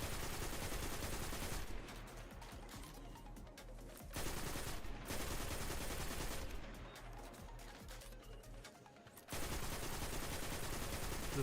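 Sustained video game gunfire from a Behemoth match roars as dense, continuous automatic shooting, breaking off briefly a few times before resuming loud and close.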